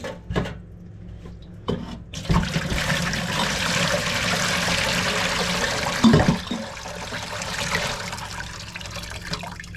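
Hot soapy water runs steadily from a tap into a kitchen sink for washing up with homemade soap, a continuous broadband splash lasting most of the clip, with a few clunks near the start and midway.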